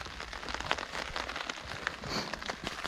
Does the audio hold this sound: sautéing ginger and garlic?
no